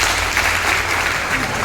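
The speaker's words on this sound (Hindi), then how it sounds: "एक बार ताली हो गई" An audience applauds at a network marketing seminar, a dense, continuous wash of clapping from a large crowd, loud and steady throughout.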